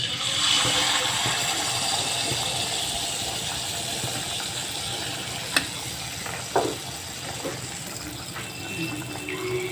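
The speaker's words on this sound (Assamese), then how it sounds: "এতিয়া মই এনেকৈ গোটেইখিনি ভাজি ল'ম।" Assamese banana pitha fries in hot oil with a steady, fine sizzle up close, broken by a couple of sharp clinks and a brief scrape near the end.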